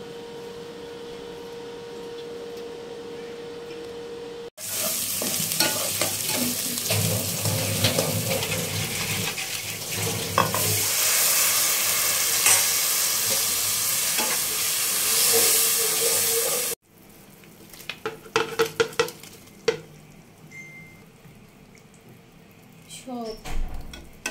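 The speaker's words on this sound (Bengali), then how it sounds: "তো আমি এখন গরম হয়ে গেছে, এখন তেল ঢেলে দিব।" Oil poured into a hot pot for khichuri bursts into a loud, roaring hiss that holds for about twelve seconds, then cuts off to quieter clattering and handling noises, with voices at times.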